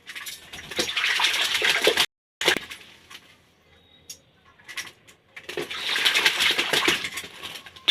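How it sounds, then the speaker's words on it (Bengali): Water splashing as someone bathes, in loud bursts of slapping and sloshing, cut by a sudden silence and a quieter stretch before the heavy splashing returns, with no talk over it. "ভগবান, চান করছে দেখ কিরম করে।"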